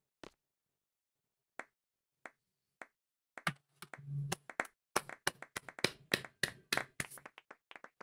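A few isolated claps in Final Fantasy VIII, one first and then several slowly spaced, building into a scattered round of applause from a small crowd at a school inauguration party, fairly close.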